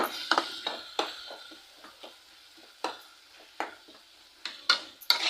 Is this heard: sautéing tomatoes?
yes